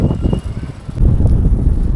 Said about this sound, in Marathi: हा किती मस्त वारा सुटला आहे